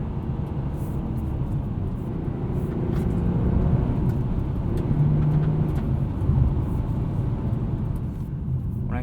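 A 2016 Honda Accord V6 coupe with a six-speed manual, naturally aspirated, drones steadily from inside the cabin while driving, a low constant engine rumble swelling slightly midway with road noise beneath.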